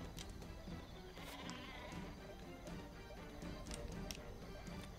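Sheep weapon bleating in Worms Battlegrounds, a faint wavering bleat over busy game sounds, ticking and small clicks.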